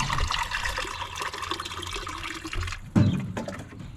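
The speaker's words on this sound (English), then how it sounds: "let me fill up your water first" Water running and pouring into an animal's water dish during morning chores, a steady splashing stream that cuts off near the end with a brief clunk, no talking over it.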